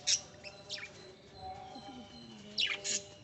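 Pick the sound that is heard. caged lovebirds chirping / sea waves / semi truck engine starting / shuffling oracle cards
caged lovebirds chirping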